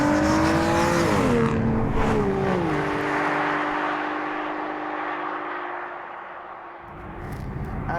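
An Aston Martin Virage with a 490 bhp engine accelerates hard through gear changes, its loud rising howl stepping down at each shift before fading into the distance.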